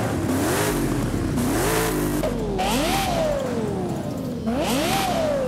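A swapped engine in a Toyota truck in Forza Horizon 5 revs repeatedly, rising and falling in several loud close sweeps with a whooshing edge.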